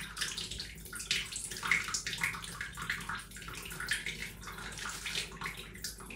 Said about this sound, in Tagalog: So, we're gonna wash our face.